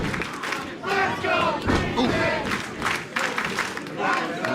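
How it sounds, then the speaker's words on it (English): Wrestling crowd at a live Chaotic Wrestling show in Tewksbury roars and chants loudly and steadily throughout, with a brief spoken exclamation rising above the noise. "They're definitely chanting for the Green Kid"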